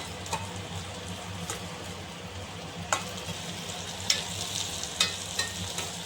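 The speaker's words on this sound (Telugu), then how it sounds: "కొద్దిగా వేగాలి ఫ్రెండ్స్ ఇవి కాకరకాయ ముక్కలు అనేవి" Bitter gourd pieces fry steadily in a pan for a pickle, giving a continuous soft sizzle broken by a few scraping stirs, with no talking.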